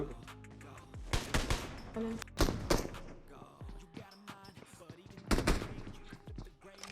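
Rapid bursts of gunfire from a PUBG Mobile match, several loud volleys firing in quick rhythm with heavy thuds between them, close and punchy.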